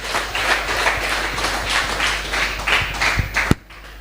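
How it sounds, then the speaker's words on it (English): A press-conference crowd at a fight league event gives a big round of applause for a fighter, loud, dense clapping and cheering that holds steady, then ends with a sharp thump and drops off. "This is a big round of applause for Aladdin Sieberts."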